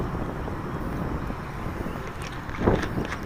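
Wind buffeting a microphone outdoors at a hand-launch model glider field, a steady low rumble with a stronger gust near the end, no talking.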